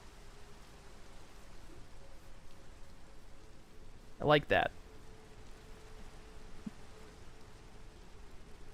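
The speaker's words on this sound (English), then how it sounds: "Rain is just rain" Steady, soft rain hiss in the Minecraft Cobblemon game world, a faint continuous wash broken midway by a brief spoken remark.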